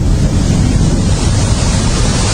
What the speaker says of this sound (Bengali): এ কি, এ তো বৃষ্টি শুরু হয়ে গেল।